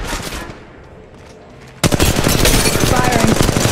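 Rapid automatic gunfire in the mobile game Apex Legends Mobile bursts in loud and sustained after a quieter opening moment, dense shots continuing to the end.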